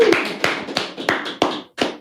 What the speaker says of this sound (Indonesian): Alright, tepuk tangan pemirsa.